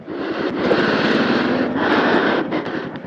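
A carbureted Honda RS 125 motorcycle engine starts and runs with a loud, steady close-up drone that dips briefly midway and rises again.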